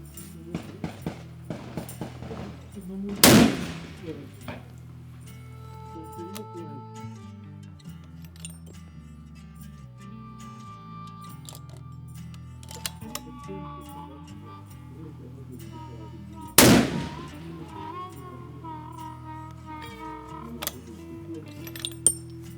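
Two sharp, loud shots from a Victrix Throne .375 CheyTac rifle fired at a 300-metre target, spaced well apart, with someone talking quietly in the gaps.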